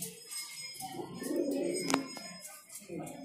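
Soft pigeon cooing from a white pigeon at a bird shop in Delhi, a low throaty murmur swelling mid-clip over faint background chatter and shop noise.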